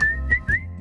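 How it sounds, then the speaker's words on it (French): A short human whistled tune: three clear pitched notes with small glides, close and moderately loud, with no talking. "Et là, je leur explique pourquoi le sifflotement."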